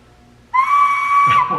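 A loud, shrill whistle blown in one sustained blast lasting over a second, close by, with a slight wavering toward the end.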